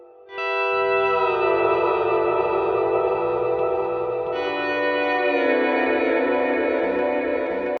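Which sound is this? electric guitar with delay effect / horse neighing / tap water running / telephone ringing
electric guitar with delay effect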